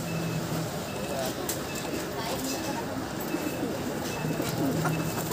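Racing pigeons coo steadily in a loft, soft repeated throaty calls close by amid constant background noise and a distant reversing beep, with someone talking over them.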